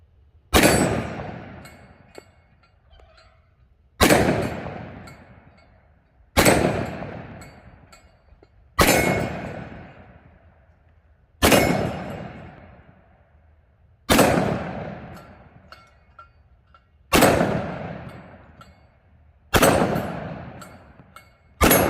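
A 10mm pistol firing Speer Gold Dot rounds over Accurate powder at about 1,200 feet per second, eight loud sharp shots spaced roughly three seconds apart, each ringing out and decaying into echo outdoors, no talk.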